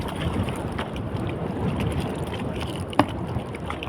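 Strong wind roars across the microphone in a loud, continuous rumble near mangroves, with a brief knock near the end and faint water sounds beneath.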